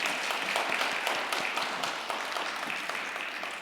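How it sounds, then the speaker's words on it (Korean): An audience at a peace blessing ceremony applauds to thank a choir. The clapping is steady and fairly soft, evenly spread, and fades slightly toward the end. "우리 그레이트 아젤리아 팀에게 다시 한번 감사의 박수를 올려드리겠습니다"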